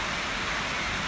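Dense hissing rain in foggy mountain weather, steady and fairly loud, a brief wash of noise with no other sounds.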